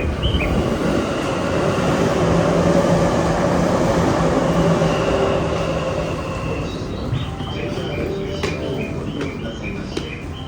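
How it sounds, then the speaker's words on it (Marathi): A train runs through a railway station in Kamakura, Japan, with a loud continuous rolling rumble that eases slightly toward the end. Faint bird chirps come through in the later part, and no one speaks. "ट्रेन स्टेशनला उतरलं"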